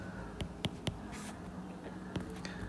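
A pen writes an answer on paper during a math problem, with faint, close, scratchy strokes in short irregular bursts and pauses, with no talking.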